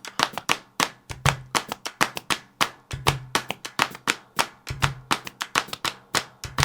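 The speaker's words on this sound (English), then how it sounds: "they're doing that with these multi-part clapping sequences while they're singing this insane dissonant harmony" Multi-part hand clapping in a sharp, steady interlocking rhythm of crisp close claps, with a low sung tone surfacing now and then beneath the pattern.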